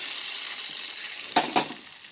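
Grated coconut and curry leaves tempering in a pan give a steady bright sizzle, broken by two sharp spatula scrapes or stirs near the end, with no talking.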